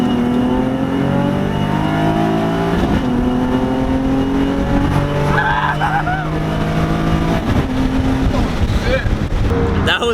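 Infiniti G35 on a 2-step launch control, the engine holding a loud stuttering rev against the limiter, then surging through rising gear pulls with tire noise. The car is close and loud, and voices are mixed in.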